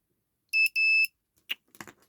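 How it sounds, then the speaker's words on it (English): Homemade Morse key built from recycled parts sounding its buzzer: two short, shrill electronic buzzes in quick succession, then a brief click and faint handling noise. "And there's our buzzer."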